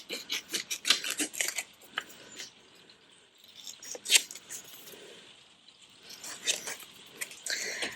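Scissors snip through paper ephemera in a few crisp, separate cuts, close and fairly quiet, with short pauses between bursts in an otherwise still room.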